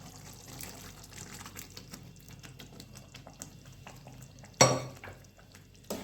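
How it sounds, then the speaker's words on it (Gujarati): Boiled peas are stirred into a pot of gravy for sev usal, making quiet wet stirring and light patters. A sharp clatter of the spoon against the pot rings out near the end. "આ વટાણા પણ બફાઈ ગયા છે સરસ મજાના. તેને આપણે ગ્રેવીમાં મિક્સ કરી દઈશું."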